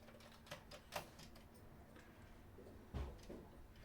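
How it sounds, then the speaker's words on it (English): Keys hammered on a Commodore C16 home computer keyboard while playing a game: a few faint, scattered plastic clicks separated by quiet pauses. "Oh, let's just hammer keys."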